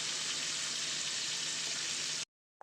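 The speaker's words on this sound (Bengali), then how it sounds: "ভালো করে এটাকে নাড়াচাড়া করে একটু নরম হবে পেঁয়াজটা একটু ব্রাউন কালার হবে" Onions fry and are stirred in a pan with steady, dense sizzling throughout, close and continuous, cutting off abruptly near the end.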